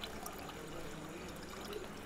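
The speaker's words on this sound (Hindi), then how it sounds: "अब मैं इसमें थोड़ा सा पानी ऐड करूंगी ताकि मेरा खीर ज्यादा सूखा ना बने," Water poured into a pot of mango rice kheer makes a soft, continuous trickling and splashing, faint and close, with no speech over it.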